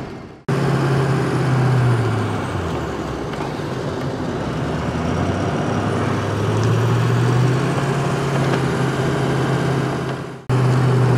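Ford F250 Super Duty with a 2-inch lift on Nitto Ridge Grappler 35x12.50R17 tires cruising down a street, a steady in-cabin road rumble and low engine drone that runs unbroken with no talking.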